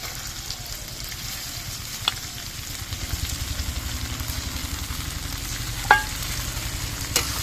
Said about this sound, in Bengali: এর মধ্যে আমি ধুয়ে রাখা মুগ ডালগুলো দিয়ে দিচ্ছি